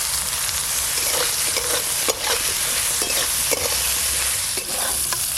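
Potato and eggplant pieces fry in a pan, a steady loud sizzle with the clatter and scrape of a spatula stirring every second or so, close and continuous with no voices.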